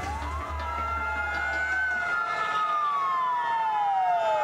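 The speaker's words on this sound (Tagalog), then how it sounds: "mga bombero nga nagpatingog sa ilang sirena atol sa gipahigayong motorkada" Fire truck sirens wail during a fire prevention motorcade, a steady rising and falling tone in the open street with a low engine drone fading out partway through.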